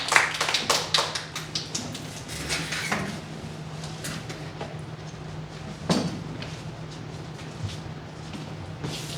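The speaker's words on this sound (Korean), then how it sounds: "주님께 영광 박수 드리겠습니다." A church youth service congregation gives a round of applause, starting with a burst of sharp, close claps that quickly thin into scattered taps and fade, with one louder clap near the end.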